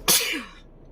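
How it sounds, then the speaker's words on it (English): A single sharp sneeze bursts out close by, then quickly trails away into quiet. "And I'm gonna sneeze."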